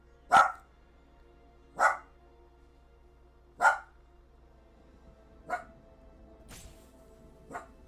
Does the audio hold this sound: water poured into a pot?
no